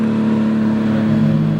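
A straight-piped Nissan RB25 engine with a catless downpipe and no muffler drones loudly and steadily at a constant rev, close by, with no voices over it.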